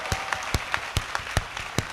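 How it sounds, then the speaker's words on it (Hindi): A small audience at a comedy poetry show claps in a sparse rhythmic pattern, distinct sharp hand claps spaced about every quarter second. "जिस मन से आपने ये तालियां बजाई"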